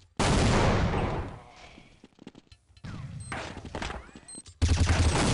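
Bursts of rifle fire crack through a Counter-Strike 1.6 match on de_inferno, loud volleys at the start and end with scattered quieter shots and clatter in between, no voices over them.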